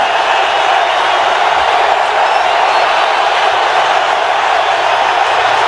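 A loud, steady roar of a large NFL stadium crowd in Indianapolis on a third down, a dense wash of cheering voices that holds constant throughout without breaks.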